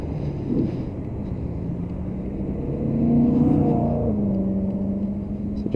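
A Lexmoto Titan 125cc motorcycle rides into traffic, its single engine humming steadily, then rising in pitch as it accelerates, with wind buffeting the microphone throughout.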